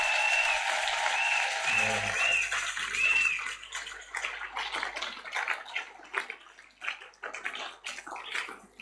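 A church congregation bursts into sustained, dense applause that swells and then thins into scattered claps, with a voice and brief tones heard faintly over the start.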